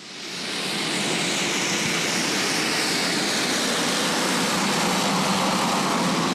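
An A-10 attack jet landing on a dirt runway: a loud, steady broadband jet roar that swells over the first half second and then holds, close and constant, with no voices.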